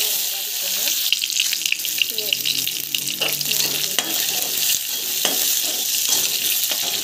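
Oil heats in a pan, giving a steady, close hissing sizzle with occasional light scrapes throughout.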